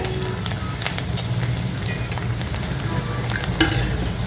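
Chopped ginger fries in a pan for a Kerala-style beef roast, giving a continuous, close crackling sizzle with scattered sharp pops and a stirring scrape near the middle and end.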